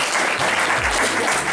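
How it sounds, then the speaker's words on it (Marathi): An audience at a retirement felicitation event applauds with dense, steady clapping that fills the whole moment. "सरांसाठी सुद्धा टाळी वाजवा"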